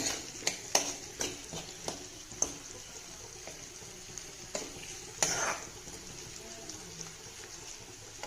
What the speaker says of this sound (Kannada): ಉಪ್ಪು ಹಾಕ್ಬಿಟ್ಟು ಚೆನ್ನಾಗಿ ಮಿಕ್ಸ್ ಮಾಡ್ತೀನಿ